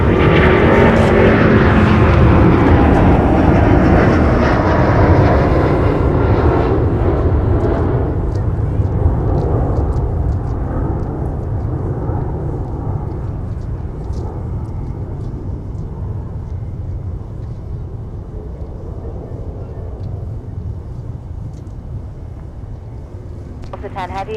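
Southwest Airlines jet taking off from MSP bound for Denver, a loud broadband engine roar that starts strong and slowly fades as it climbs away, with wind buffeting the microphone and speech over it.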